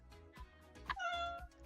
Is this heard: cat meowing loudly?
yes